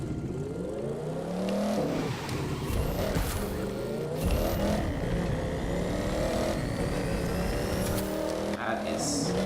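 A V8 car engine in the video game The Crew 2 revs up and down repeatedly with a throaty roar, close and loud, while a person talks over it.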